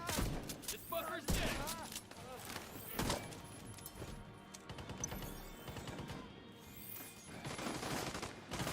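Rapid gunfire from The Division 2, bursts of automatic rifle shots and single cracks in a chaotic firefight with impacts, continuous and loud throughout, with voices talking over the action.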